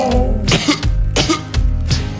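Loud, close coughing bursts repeat in a steady rhythm as a sound effect within a song.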